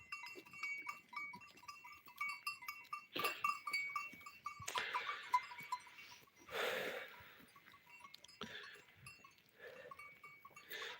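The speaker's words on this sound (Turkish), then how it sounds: "Görüyorsunuz keçiler yayılıyor." Goats, black goats of the Karakeçili herders, bleat intermittently at varying distances while grazing, with a faint metallic bell tinkling throughout in an open, quiet outdoor setting.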